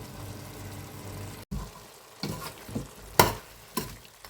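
Turkey meat cooking in a pan, a low sizzle with a few distinct stirring scrapes and clanks of a utensil against the pan at irregular intervals, close and quiet, no speech.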